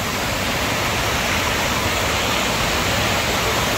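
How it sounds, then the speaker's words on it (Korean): Kuang Si waterfall in Laos roars as a steady, dense wash of falling water, close and loud, with no break and no voices. "이게 황시폭포인데요."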